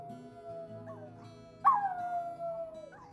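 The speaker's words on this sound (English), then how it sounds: "we made a recording of him howling, and then we played that recording back to him to see if he'd howl again" A played-back recording of a dog's howl rises into a long, wavering, drooping wail that trails off, over a low steady background hum.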